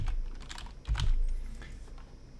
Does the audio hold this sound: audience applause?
no